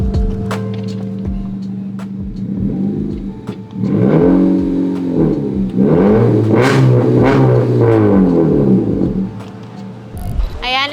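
A 2019 Honda Civic set up as a Type R revs loudly nearby at a used car market, the engine climbing through several rising sweeps and holding a steady rumble between them, with no one talking over it.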